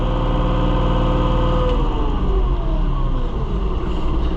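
A New Holland TN75DA tractor engine runs loud and close in neutral, its low rumble rising steadily from idle as the revs climb, with no talking.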